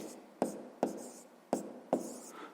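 A pen writes an answer on paper in a sixth-grade math exercise, with four sharp taps and scratchy strokes spaced unevenly over a couple of seconds, quiet and close.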